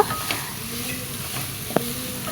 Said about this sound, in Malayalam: അപ്പോൾ സവാള നന്നായി വയറ്റിയെടുക്കാം നമുക്ക് അതിന് ആവശ്യത്തിന് നമുക്ക് ഉപ്പും കൂടി ചേർത്ത് കൊടുക്കാം